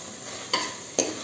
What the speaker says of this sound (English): At this stage, I'm going to add 1 tablespoon of peppercorns.